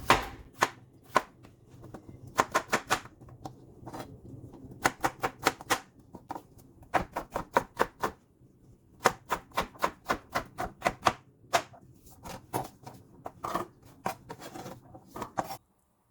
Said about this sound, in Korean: 먼저 감자를 갈기 좋게 대충대충 이렇게 잘라주세요.